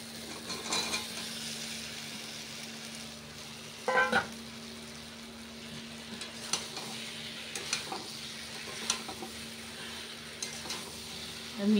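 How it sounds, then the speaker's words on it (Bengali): Fried taro, potatoes and prawns stir-fried together in spice paste in a pan, a steady low sizzle with occasional scraping and clinks of a spatula against the pan, heard close and alone. "এবার ভেজে রাখা কচু আলু সব একসঙ্গে দিয়ে কষিয়ে"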